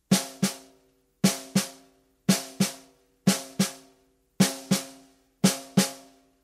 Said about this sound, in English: And that's your double stroke roll.